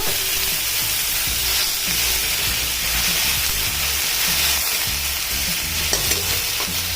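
Ginger-garlic paste masala frying in a pan as a little water goes in: a loud, steady sizzle and hiss with stirring scrapes throughout, and no voices.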